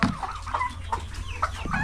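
A hen clucks in several short, quick calls close by, sharp and moderately loud against a low steady background, with no talk.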